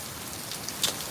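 Small hailstones patter steadily on surfaces outdoors during a severe storm, with a few sharper, louder impacts standing out near the end.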